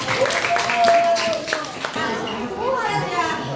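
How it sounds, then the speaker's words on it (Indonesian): Classroom applause for classmates, a brief scatter of children's clapping up close mixed with chatter and a teacher's voice. "Lihat tepuk tangannya buat teman-teman"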